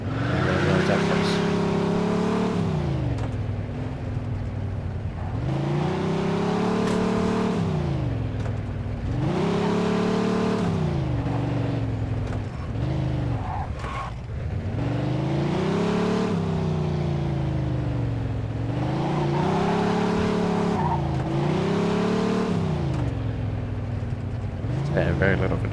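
A car drives in the video game Mafia II, its engine revving up and down in repeated loud waves with a constant tonal whine throughout.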